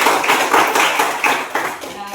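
A class of schoolchildren at a physical education lesson claps hands together in a short burst of fairly loud, busy applause that lasts about two seconds before easing off.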